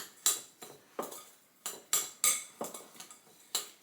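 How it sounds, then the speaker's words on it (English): Melted butter being stirred into a low-carb cheesecake crust mixture with almond flour, producing faint, irregular scraping and clinking strokes of a utensil against a bowl, about a dozen sharp taps in quick succession. "Now we're going to stir it together."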